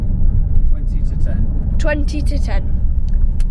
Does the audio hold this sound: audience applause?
no